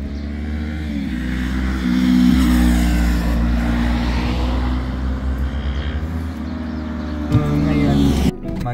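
Car driving along a New Zealand road toward Bridal Veil Falls, heard from inside as a steady low engine drone and road hum that swells around the middle, ending with a brief dip near the close.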